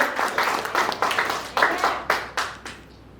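Church congregation clapping in praise during a worship service in Keningau, about nine sharp, rhythmic claps in a row that fade into quiet at the end.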